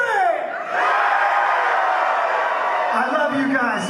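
A live concert crowd screams and cheers on cue, a loud sustained roar of many voices holding for several seconds and swelling again near the end.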